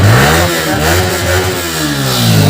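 A motorbike engine runs loud and close, its pitch rising and falling as it revs up and eases back.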